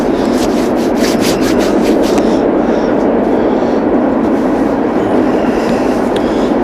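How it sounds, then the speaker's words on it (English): An old train rolls steadily down the tracks, a continuous loud rumble with rubbing, clattering wheel noise throughout and faint speech-like sound mixed in. "Old train's rolling down the tracks"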